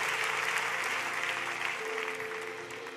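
A church congregation applauds and acclaims Jesus during a sermon, with sustained dense clapping and crowd noise filling the space, steady throughout and fading slightly at the end.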